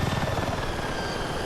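Helicopter flying in Battlefield 6, a steady, dense rotor and engine drone holding constant and close for the whole brief moment.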